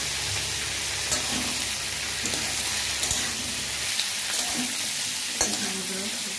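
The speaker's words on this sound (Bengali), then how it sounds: "এটাকে একটু ভালো করে ফ্রাই করে নেব। দিয়ে দেবো গোটা রসুনগুলো, এটার সাথে ফ্রাই করে নামিয়ে নেব।" Dried fish and whole garlic cloves fry in a pan with a dense, continuous sizzle, broken by occasional spatula scrapes and light taps, close and even throughout.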